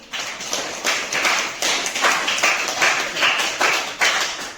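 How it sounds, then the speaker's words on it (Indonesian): Classroom of students clapping in rhythmic bursts, a steady run of near, fairly loud claps for a group after its presentation. "tepuk tangan untuk kelompok 1 dulu"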